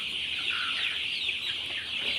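Sonali chickens raised for sale on a chicken farm cluck and chatter steadily, a dense flock sound close by without any talking.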